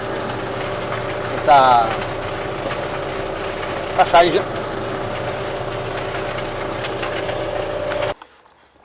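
A tractor engine runs with a steady, loud drone while it mulches corn stalks in a field, with brief creaks and clunks along the way. It cuts off abruptly near the end, and someone speaks briefly over it.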